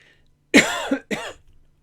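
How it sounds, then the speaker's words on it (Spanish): A single close, harsh cough split into two quick bursts, loud against silence. "La tos que no falta, ¿verdad?"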